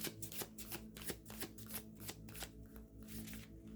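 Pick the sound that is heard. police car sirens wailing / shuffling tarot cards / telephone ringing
shuffling tarot cards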